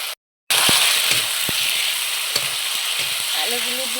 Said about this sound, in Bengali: এখন ভাজা আলুগুলি দিয়ে দেবো।